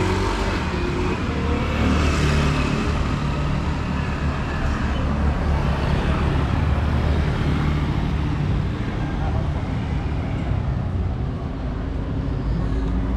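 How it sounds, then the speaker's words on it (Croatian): Steady roar of heavy traffic dominated by many scooters along a busy evening street in Kuta, Bali, close and loud, with engines droning and passing nonstop. "Puno je skutera."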